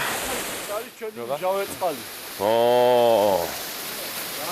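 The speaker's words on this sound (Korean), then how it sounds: "와, 폭포인데?" A waterfall near a mineral spring in the mountain villages of Svaneti, Georgia, gives a steady broadband rush of falling water beneath nearby voices that speak and exclaim over it.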